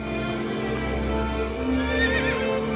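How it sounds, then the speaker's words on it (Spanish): Horses whinny and neigh with hooves clip-clopping as men on horseback approach inside a palace, loud and close over a dense backdrop. "Son sonidos de hombres a caballo, dentro del palacio, acercándose."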